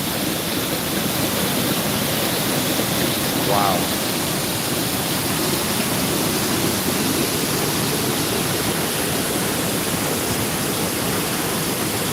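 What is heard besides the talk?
rushing storm drain water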